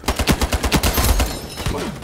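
Loud, rapid automatic gunfire from the shooter video game Escape from Tarkov, with a fast burst of close shots in the first second followed by more scattered rounds and echoing tails.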